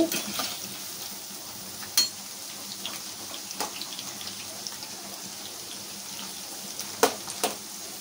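Ivy gourd frying in oil in a pan, stirred and turned with a slotted ladle, giving a steady faint sizzle with a few sharp scraping clicks of the ladle.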